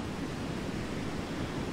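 Stormy sea waves in an audio drama, a steady dense roar of surf and wind that fills the whole stretch without a break.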